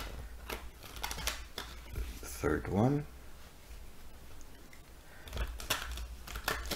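Tarot cards shuffled by hand at close range in short bursts of riffling and soft crisp rustles, scattered among a person's steady talking.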